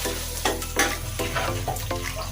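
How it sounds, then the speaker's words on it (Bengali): A bottle gourd curry seasoned with turmeric is stirred in a pan, with a spoon scraping in repeated strokes over a constant loud sizzle. "ভালো করে নেড়ে দিয়েছি"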